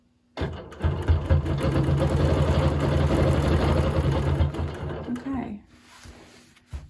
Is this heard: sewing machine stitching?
yes